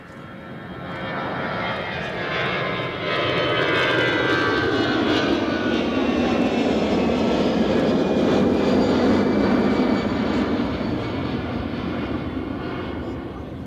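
A passenger jet bound for Basel takes off at Edinburgh Airport, its engines building from a distant hum into a loud, sustained roar that peaks mid-clip and holds, with no talk over it.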